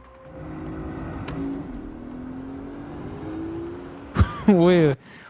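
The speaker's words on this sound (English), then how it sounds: "Capcom collabed with Porsche to add in a Porsche SUV into the game for Leon to drive" Porsche SUV engine in the Resident Evil Requiem trailer, a low steady engine hum with a rising pitch sweep over several seconds, then a sharp burst and a brief loud revving flourish before it cuts off.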